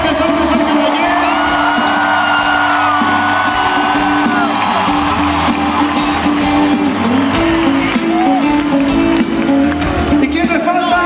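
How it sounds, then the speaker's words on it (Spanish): A packed Madison Square Garden concert crowd roars, whoops and cheers for a guitarist during a show, a loud continuous wall of yelling and applause mixed with shouting voices. "Un fuerte aplauso a este excelente guitarrista"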